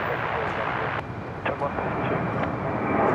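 Fixed-wing airliner climbing out on takeoff at Brisbane International Airport, a steady broad engine roar held for several seconds with people talking faintly underneath.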